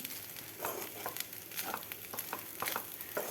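Leftover rice frying in a pan for fried rice, a steady sizzle broken by repeated scraping stirs of the spatula at an irregular rhythm, close and moderately loud with no talking.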